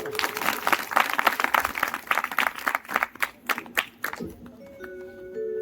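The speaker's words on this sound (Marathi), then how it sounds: "सगळ्या कलाकारांसाठी एकदा पुन्हा एकदा टाळ्या होऊन जाऊ द्या, जोरदार" An audience claps for the performers at a Marathi cultural programme held for a Satyanarayan puja, a dense burst of applause thinning into scattered claps before fading into quiet room tone.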